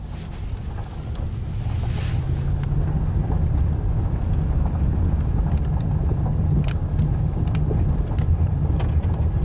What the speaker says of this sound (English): I'm just going to put in neutral and drive it and see if it's like drive or if it's just stuck in first gear.